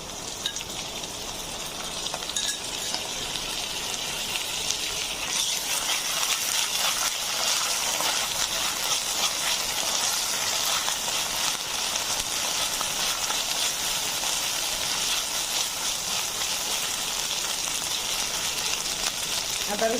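Ginger garlic paste fries in a pan with browning onions, giving a steady, dense sizzle and crackle that stays even and close for the whole stretch with no voices.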